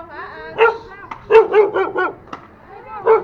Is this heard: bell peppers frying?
no